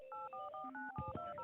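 A call flooder app plays a quick run of telephone keypad dialing tones, about eight short two-note beeps in a steady rhythm, with a faint voice-like sound near the end.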